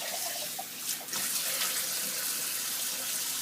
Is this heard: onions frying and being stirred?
no